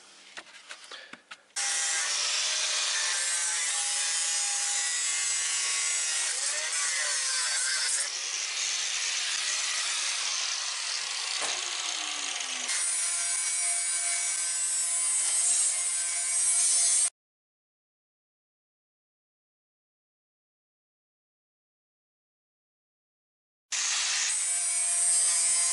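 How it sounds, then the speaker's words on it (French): Sheet metal panels cut for a welded nightstand with a cutting tool, a loud continuous grinding, rasping cut running for about fifteen seconds with small pitch shifts, then silence before cutting resumes briefly. "je vais aller couper les tôles qui vont venir ici de chaque côté et derrière"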